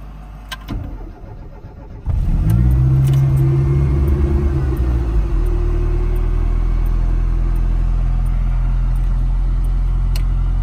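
A 1988 Austin Mini with a 1000 cc engine cranks and fires up, then settles into a loud, steady idle rumble close by as it prepares to drive off.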